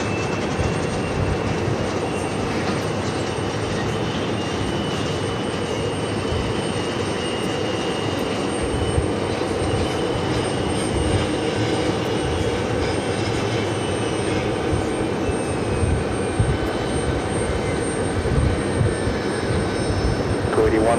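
A Lufthansa Boeing 747-400, 24 years old, taxiing at JFK airport, its engines giving a loud, steady, continuous roar with faint radio chatter in the background.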